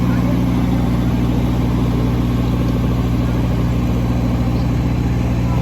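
A tractor engine rumbles loud and steady at close range, a continuous low drone with no pauses, as it spreads quartz sand on a football pitch under construction.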